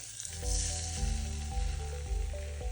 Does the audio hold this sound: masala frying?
yes